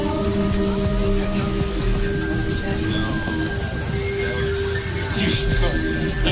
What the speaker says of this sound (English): It's raining out there.